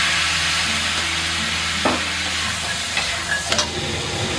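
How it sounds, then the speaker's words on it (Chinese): Dried cuttlefish stir-fried with scallion whites and sliced ginger in a wok alongside pork ribs, a steady close sizzle with a few sharp scrapes and clinks of a spatula stirring. "先把这个墨鱼干给它炒一炒啊，把它的香味炒出来"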